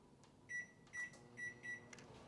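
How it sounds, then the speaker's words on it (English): A microwave oven runs with a steady low hum, heating cheese in a bowl, and four short beeps sound at even intervals. It is fairly close and quiet, with no talking. "For the cheese, we go to the microwave"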